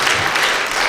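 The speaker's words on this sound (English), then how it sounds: "let's give them a round of applause" Round of applause from a lecture audience, a dense wash of many hands clapping that holds steady and fairly loud through the short stretch.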